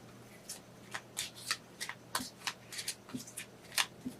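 Tarot cards are shuffled in a quiet room, a run of about a dozen crisp riffling flicks and slaps that come in quick, uneven bursts.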